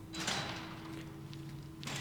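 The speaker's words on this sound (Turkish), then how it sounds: "Aç kapıyı." A door slides open in the survival horror game Resident Evil Revelations 2, a soft mechanical whoosh with a low steady hum beneath, rising briefly again at the end, fairly quiet and with no talk over it.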